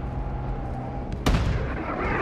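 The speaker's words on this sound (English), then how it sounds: "Hostiles launched a cruise missile." A cruise missile detonates in a Call of Duty Modern Warfare II Ground War match, one sudden loud blast breaking through a steady background hum and leaving a broad rumbling roar that lingers to the end.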